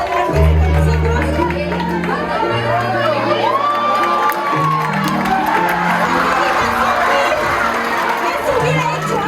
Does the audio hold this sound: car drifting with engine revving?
no